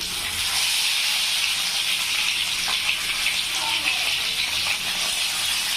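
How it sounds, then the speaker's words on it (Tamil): Fish shallow frying in oil in a pan, with a steady loud sizzle and hiss throughout and occasional pops. "இந்த மீனை வந்து நம்ம இதில் போட்டு ஷேலை ஃப்ரை பண்ணிக்கலாம்"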